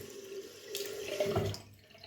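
Water runs from a tap into a sink, a soft close trickle that swells briefly before easing off.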